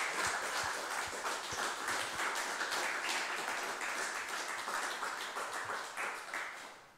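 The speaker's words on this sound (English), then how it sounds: "So I think as a conference, we should give them a round of applause." Conference audience applauding in a hall, a dense, even patter of many hands clapping steadily for several seconds before tapering off near the end.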